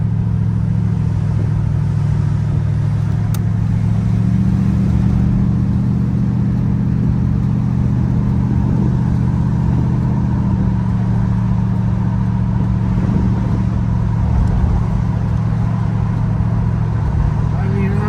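A 1986 Oldsmobile Cutlass 442 with worn-out shocks rumbles at a steady low pitch while driving, a continuous loud engine drone with little change in revs, heard from inside under occasional voices.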